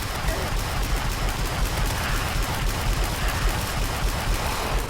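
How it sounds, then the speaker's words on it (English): The Electrosphere Launcher firing in Terraria during the Pumpkin Moon, a dense, unbroken crackle of rapid electric blasts and explosions, loud and steady throughout. "I should try out my Electrosphere launcher"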